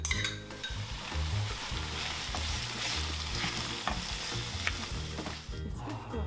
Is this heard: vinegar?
yes